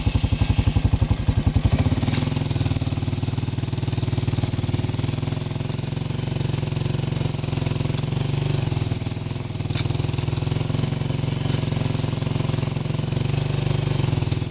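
A Black Boar chisel implement drags through lawn dirt behind an ATV, the engine droning steadily and loud close by, with a rough chugging opening in the first two seconds before it settles into a continuous laboring pull.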